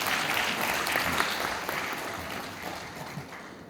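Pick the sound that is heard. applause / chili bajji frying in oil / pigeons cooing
applause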